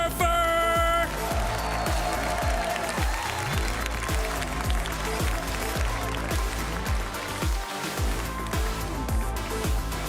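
Dense, steady audience applause fills the arena at the 2023 Clash Royale World Finals esports event. It opens with a bright musical sting and then holds a loud, unbroken wash of clapping from start to finish.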